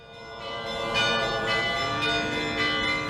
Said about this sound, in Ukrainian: Звучить дзвін, це благовість знак, що світле свято розпочалося.